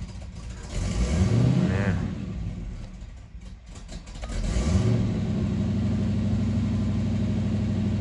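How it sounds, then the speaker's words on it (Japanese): A car engine idles with a steady low rumble, then is revved in two distinct rising swells that settle back into an even idle. The sound is close and fairly loud, with no talk over it. "まだしばらくアイドリングにかかりますよふかしてふかしては"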